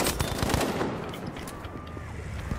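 Burst gunfire in Battlefield 5 rattles loudly and densely in rapid overlapping volleys with battle noise throughout.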